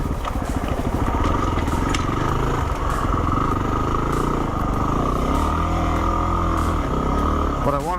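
A loaded dual-purpose motorcycle rides a trail, its engine droning steadily and loudly with rattling clatter throughout, close to the rider.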